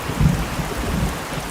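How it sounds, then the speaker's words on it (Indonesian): Steady rain falls in the game A Space for the Unbound, a dense hiss with a low rumble of thunder swelling briefly near the start, loud and continuous with no voices. "petir menyambar"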